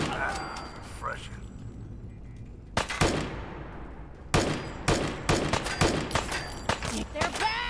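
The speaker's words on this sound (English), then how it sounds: "Picking up hostile light fire." Bursts of gunfire in Fallout 4, with sharp shots and rapid volleys breaking out at irregular intervals over a low ambient bed, under occasional faint talk.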